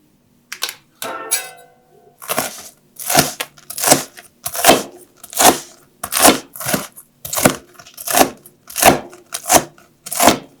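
A knife cuts through a peeled boiled egg on a board, about a dozen crisp, even taps in a steady rhythm, close and clear with no talking.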